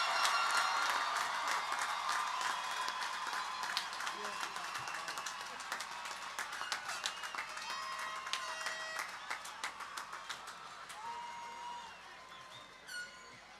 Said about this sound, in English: One more round of applause for all the graduates of the class of